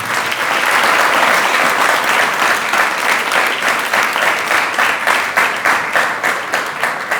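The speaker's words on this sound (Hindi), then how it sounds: "इस पर ताली अच्छी नहीं बजाई लोगों" A large audience at a Jain spiritual discourse claps steadily for about seven seconds, dense and loud throughout, with the applause thinning slightly toward the end.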